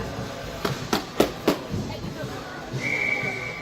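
A referee's whistle sounds as a long steady tone at a youth ice hockey game after an offsides call, following a few sharp thuds of skates and sticks on the rink.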